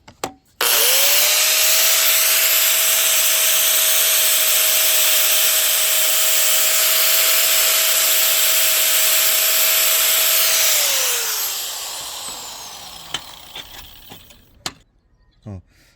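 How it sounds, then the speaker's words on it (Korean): An angle grinder trims the protruding rough edges of a cut ceramic tile as the tile is turned, a loud steady high whine that runs for about ten seconds and then spins down. "잔여물의 타일들은 글라인더를 시옷자로 잡은 후 튀어나온 요철 부분을 타일을 돌려가며 다듬어 주시면 되십니다"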